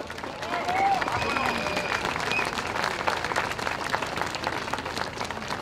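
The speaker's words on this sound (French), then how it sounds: "je vous prie d'applaudir Monsieur Laurent Heminger." An audience at a peace rally in Paris gives a speaker sustained applause, with scattered cheers and a few whistles rising over the clapping crowd. The sound swells early and then settles into an even roar.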